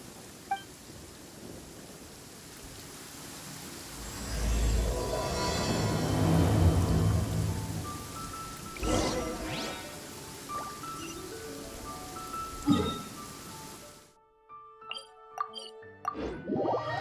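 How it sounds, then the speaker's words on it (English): Rain and thunder from a video game storm build into a dense wash with low rumbling, then thin out to scattered drips and plops before falling quiet, with faint sounds lingering at the end. "The rain has stopped."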